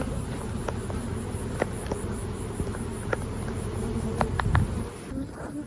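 Honey bees buzzing around packed beehives that were split from four deeps down to singles, a dense, steady outdoor hum with individual bees zipping close past now and then.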